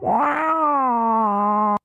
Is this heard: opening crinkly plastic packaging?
no